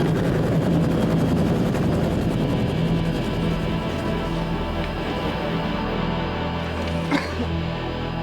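Helicopter hovering close overhead on a film set, a loud continuous rotor thrum with steady low engine drone and chopping blade pulses that holds for the full stretch with no talk.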